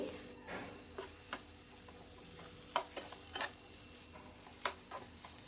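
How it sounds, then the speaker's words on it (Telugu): Ivy gourd and tomato pieces being stirred as they cook in a pan, with a faint steady sizzle and a few scattered scraping ticks of the spoon against the pan. "ఇది కూడా బాగా కలుపుకుంటూ మగ్గించుకోవాలి"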